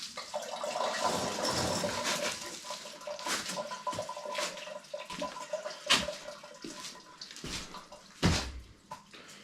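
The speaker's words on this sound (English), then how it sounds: "Now I'm just gonna let the water run out." Water gushes and splashes steadily as it drains from a Twinheat TW1 heating system, with irregular drips and sloshing bursts punctuating the flow.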